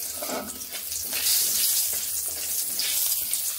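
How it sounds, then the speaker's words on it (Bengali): Dried red chillies, bay leaf and five-spice seeds sizzling in hot oil while being stirred for a few seconds, producing a close, bright crackling hiss with soft scraping, and no voices. "কয়েক সেকেন্ড ফোড়নগুলোকে এইভাবে নেড়ে নিচ্ছি।"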